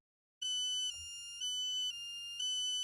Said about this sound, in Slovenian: Slišali boste 2 seriji piskov po 5 sekund, nato pa bo sledil 2-sekundni premor